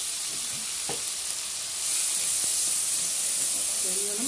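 Masala sizzling in hot oil on a wood- or clay-fired stove while cooking aloo gobi, with a steady broadband frying hiss that swells louder midway, plus a few faint clicks and stirring sounds.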